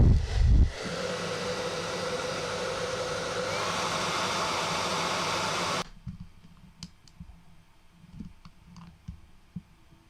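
A hair dryer blows hot air onto false eyelashes to curl them, a steady whooshing hum for several seconds that cuts off abruptly, followed by quiet small clicks and handling noises.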